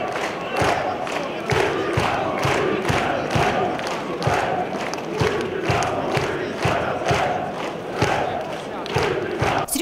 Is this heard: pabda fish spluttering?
no